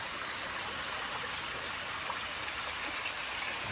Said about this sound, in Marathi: बंधाराच्या वरनं पाणी जातं